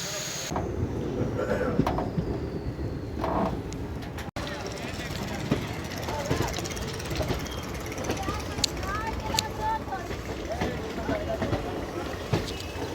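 A DEMU train pulls into Mallanwala Khas station on the Jalandhar City to Firozepur run, heard from on board as a steady rumble and rattle of wheels with squeals and clanks, while someone talks over it.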